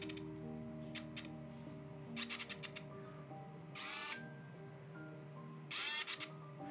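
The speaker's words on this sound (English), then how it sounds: "you can hear the autofocus motor is definitely pretty loud compared to the average autofocus lens" Autofocus motor of a Meike 85mm f/1.8 lens on a Nikon DSLR, a quiet room with faint hum where several short mechanical buzzes and two longer whirring focus sweeps sound close by, with no talking.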